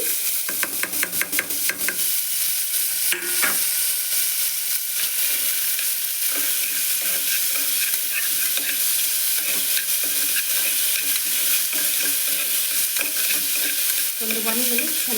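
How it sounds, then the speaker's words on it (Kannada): Vegetables frying in ghee sizzle steadily in a pan while a spoon stirs them, with clanking scrapes at the start and a constant close hiss throughout. "ಇವಾಗೆಲ್ಲ ತರಕಾರಿ ಎಲ್ಲವನ್ನು ಮಿಕ್ಸ್ ಮಾಡ್ತಾಯಿದ್ದೀನಿ."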